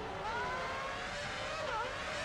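Ferrari Formula 1 car engine in the racing game F1 Championship Edition, a steady high-pitched whine that rises and dips slightly as it races, continuous and fairly loud throughout.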